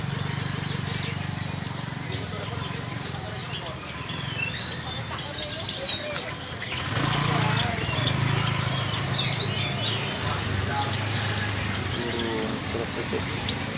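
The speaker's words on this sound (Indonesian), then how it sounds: "Banyak sekali tuh burung perkutut." Zebra doves and other caged birds call and chirp continuously at a busy bird market in Slawi, Tegal, Central Java, a dense layer of tweets over crowd murmur and occasional voices.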